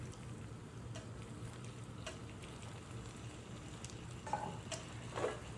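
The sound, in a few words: noodles sizzling and being stirred in a pan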